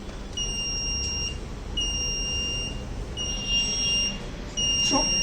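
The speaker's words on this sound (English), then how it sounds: "displayed alert message on the LCD screen along with buzzer alerts" A railway condition monitoring system's buzzer sounds four steady, shrill beeps of about a second each, evenly spaced, over a constant low background hum.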